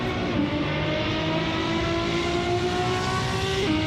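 A Ferrari race car in the Assetto Corsa racing game roars steadily at high revs, its engine and exhaust holding a loud, continuous drone with a slight pitch shift near the end.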